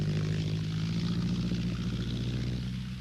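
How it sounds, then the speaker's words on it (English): A de Havilland Tiger Moth biplane with a Gipsy engine drones steadily with a loud, even piston-propeller hum throughout, close and sustained at an air race, with no talking. "With its Gypsy engine, it became the most loved plane in the entire flying world"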